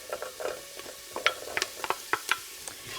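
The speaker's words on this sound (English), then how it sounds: "now we're going to add our celery to layer in that flavor" Celery, onions and garlic sauté in a pan with a soft sizzle, broken up by quick scraping stirs and light clicks of a utensil, up close and without talking.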